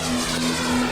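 Toy Rafale jet airplane at a government exhibition in Madurai gives a steady, buzzy engine-like hum with a faint repeating tone, loud and close, with no talking.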